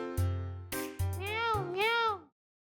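A boy in a school classroom imitates a cat's meow with his voice, giving two drawn-out, wavering meows in a row, loud and close, with short voiced sounds before them.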